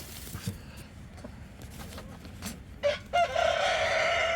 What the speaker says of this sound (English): Excuse the chicken.